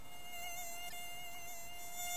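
Mosquito buzzing as a sound effect in a children's fairy tale, a thin steady high-pitched whine that holds close and constant without pause.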